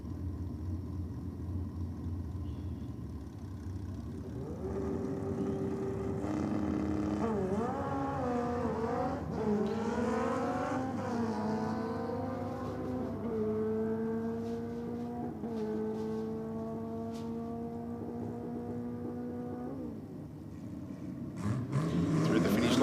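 A Kawasaki motorcycle on a solo drag racing pass roars through rising revving runs, with the engine pitch climbing and dropping at each gear change, fairly distant, under a track announcer's commentary.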